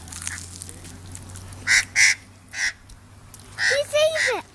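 Australian bird calling close by in short, loud honking bursts, several separate calls and then a rising squawk at the end, over a low steady hum and faint background noise.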